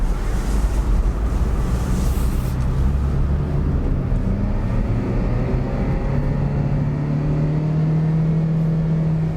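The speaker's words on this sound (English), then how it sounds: "Let's hit the gas." A hybrid car with a CVT transmission revs up from inside the cabin, its tone climbing steadily with no gear shifts as it accelerates, with a constant road rumble underneath.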